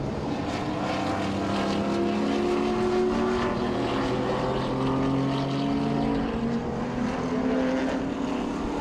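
Vintage modified race cars roar around Owosso Speedway, a loud continuous engine drone with rising and falling pitch as several cars pass together, with no talking.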